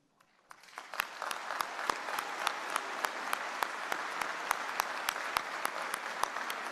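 Convocation audience applauding as a silver medal recipient comes to the stage, a steady dense clapping that swells in over the first second and holds evenly throughout, with a few sharper individual claps standing out near the front.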